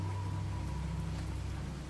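Minecraft rain falls on a frozen lake in a steady, soft, even patter with a low rumbling bed underneath, faint and continuous without speech.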